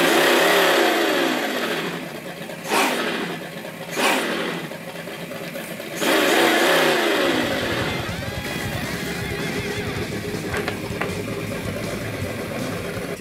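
A simulated V8 engine sound comes from a speaker in an RC 1970 Dodge Charger with a modern plenum V8 build, loud and close, rising in several revving bursts before it settles into a steady idle rumble.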